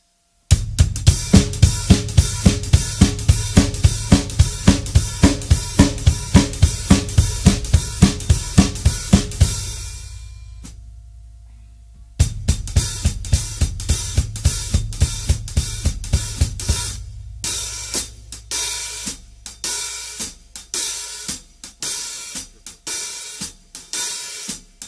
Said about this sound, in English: it switches to a hi-hat, basic swing, big band pattern.